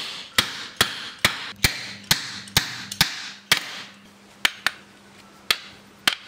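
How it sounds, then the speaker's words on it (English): Nails hammered into wooden pieces for a homemade overhead camera rig, heard as a steady run of sharp, close hammer strikes about every half second, with faint ringing between blows and no talk. "The nails are first hammered into one of the wooden pieces so that it will be easier to hammer it"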